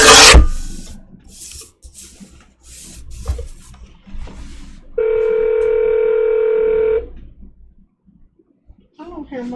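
Through an Alexa smart speaker, an outgoing phone call sounds a steady electronic ringing tone that holds for about two seconds, with a voice speaking before and after it.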